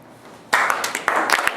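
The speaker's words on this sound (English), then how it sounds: "We're gonna start clapping" Crowd at a live stage show begins clapping after a short quiet lead-in, the claps coming in bursts and clusters rather than a steady roar.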